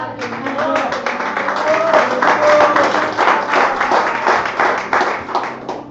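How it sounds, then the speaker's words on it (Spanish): A church congregation clapping during an evangelical sermon, a lively mass of hand claps swelling and fading over a few seconds, with voices audible beneath. "Den una ofrenda de aplausos al Señor."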